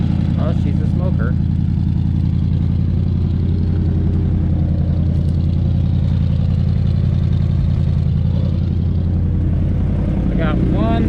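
1973 Chevy Cheyenne Super C10 with a factory 454 big block V8, revived from a seized state and smoking, idling with a loud, steady, lumpy rumble close by as someone talks over it.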